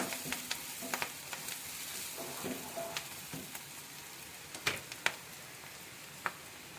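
Curry leaves and onions sizzle in hot oil in a pan while being stirred, a continuous close frying crackle broken by scattered sharp clicks and scrapes from the spoon.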